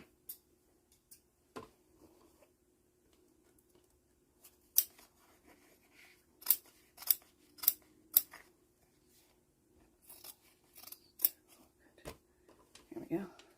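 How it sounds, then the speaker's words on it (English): Scissors snip through fabric around a sewn stitch line in a quiet room, a series of sharp crisp clicks, some isolated and some in quick runs, with faint talk in between. "let me get my scissors"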